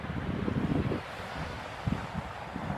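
Ocean waves wash onto a California beach under constant wind buffeting the microphone. The surf forms a low, rumbling wash with gusty bursts.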